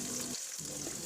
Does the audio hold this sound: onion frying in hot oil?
yes